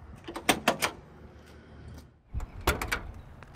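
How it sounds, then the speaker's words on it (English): Two bursts of clunks and latch clicks as the doors of a 1969 Ford Mustang Mach 1 are opened, close by with a quiet pause between. "Doors open like butter."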